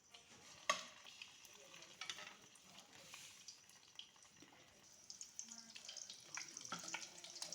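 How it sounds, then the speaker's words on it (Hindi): Bread dipped in a sweet mixture for French toast fries in oil in a pan over a low flame, giving a faint steady sizzle with occasional clinks and scrapes of a utensil nearby. "इसे डाल रहे हैं ऑयल के अंदर, पैन के अंदर। बिल्कुल लाइट फ्लेम पे, लो फ्लेम पे हमने इसको करना है फ्राई"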